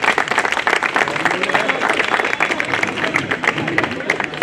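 Audience applauding at a Bar Council of Delhi enrolment meeting, a steady dense wash of clapping that holds for the whole stretch at fairly close range.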